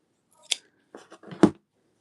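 Scissors snip through the strings of a handmade toy's arm: two crisp, close cuts about a second apart, separated by quiet handling noise.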